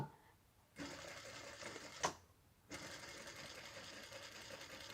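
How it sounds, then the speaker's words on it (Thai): A sewing machine stitches fabric in steady rapid bursts, running briefly, pausing, then starting again for a longer stretch, with a sharp mechanical click in the middle, close and clear. "ทำการเย็บค่ะ ทำการเย็บย้ำทั้งตอนเริ่ม"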